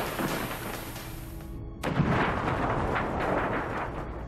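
Explosions on an aircraft's left wing in a documentary reconstruction: a sudden loud blast cuts in after a rumbling stretch, followed by sustained roaring, crackling turbulence.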